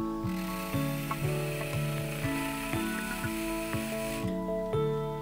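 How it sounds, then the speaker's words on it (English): A dental handpiece spins a stiff bristle brush in DiaShine fine polishing paste on a VITABLOCS Mark II restoration, a close mechanical whirr whose pitch steps up and down in short repeating stages. "Rotate the bristle brush in the paste at a slow speed."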